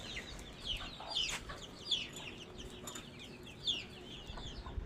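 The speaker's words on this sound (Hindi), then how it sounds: "ये छत के ऊपर माहौल है, ये बनाया हुआ है मैंने मुर्गियों का" Chickens in a rooftop coop cluck and squawk in short, scattered bursts at moderate distance, with soft outdoor ambience between calls.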